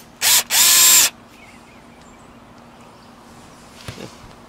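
A power drill drives lag bolts into a roof mount for solar panels, two close, loud whirring bursts in the first second, then near silence with a faint clunk near the end.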